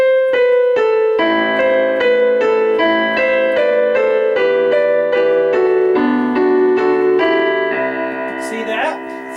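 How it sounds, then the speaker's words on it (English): A melodic keyboard passage of steady, distinct notes, first with a piano tone and then switching to a brighter synthesizer sound, played alone and fairly loud. "if we played the piano part to start off, and then jumped here and did the synthesizer part"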